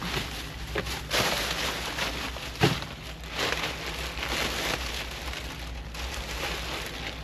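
Steady rain patters down outdoors during a dumpster dive, a dense continuous hiss with occasional heavier knocks and thuds from handling refuse, fairly quiet and with no voices over it.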